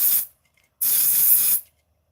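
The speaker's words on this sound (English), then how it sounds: "that freezer spray, it's like you've got to shake it and shake it and shake it, and then you've got to hold it perfectly out at 90 degrees" Freezer spray can aimed at a molten spot while repairing an Amiga A2000 SCSI card, two close, loud hissing bursts, one brief and one lasting almost a second, with silence between.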